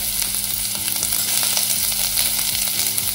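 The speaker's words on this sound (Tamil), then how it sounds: "எண்ணெய் காஞ்சிருச்சு. வெங்காயம் போட்டுக்கலாம்." Chopped onion and curry leaves sizzle and crackle in three teaspoons of hot oil in a pan, a steady close frying hiss with occasional stirring taps and no voices.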